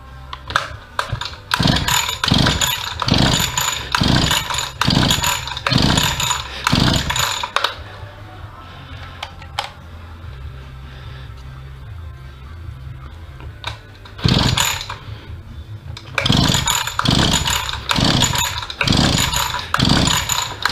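A discarded brush cutter, rescued from a dump after a repair near its magnetic flywheel, gets two runs of repeated pull-start attempts. Each run is a close, rhythmic series of rasping cranking bursts, and the engine does not catch in either run.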